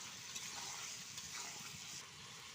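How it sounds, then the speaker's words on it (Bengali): Meat and potato pieces being stirred in a frying pan, a faint steady sizzle with light scraping and shuffling of the pieces, no voices. "আমি আলুটা দিয়ে ভালো করে আবার নেড়ে নিচ্ছি"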